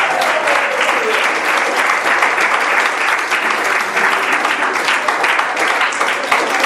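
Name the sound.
congregation applauding in church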